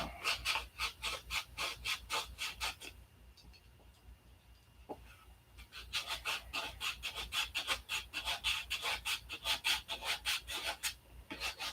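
Sandpaper rubbing over a complex wooden shape in quick rhythmic strokes, close and fairly loud, pausing briefly in the middle before resuming at a brisk pace.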